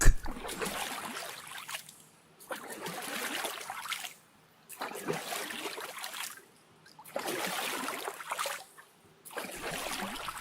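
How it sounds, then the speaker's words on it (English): A rowboat rowed toward a boat dock, its oars dipping in water, comes through as about five repeating swishing splashes, each followed by a brief pause, fairly close and steady. "I knew that it was the sound of rowing"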